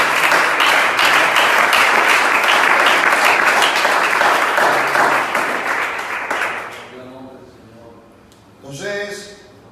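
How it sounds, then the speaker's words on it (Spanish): A church congregation at a Spanish-language service applauds loudly and continuously for several seconds, then the clapping fades out, and a short burst of voices follows near the end. "¿Cuántos aplaudimos el nombre de Jesús?"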